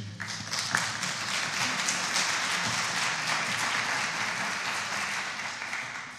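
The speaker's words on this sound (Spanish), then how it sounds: "pedirles un aplauso de bienvenida para Josefina" Welcoming applause from a lecture audience for a guest speaker in a hall, a full, steady roar of many hands clapping that carries on evenly before slowly tapering, with no talking over it.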